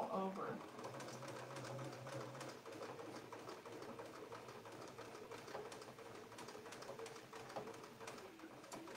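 Home sewing machine double-stitching the petal of a daisy in a basket-of-daisies design, a steady rapid needle rattle running throughout, with faint bird cooing in the background.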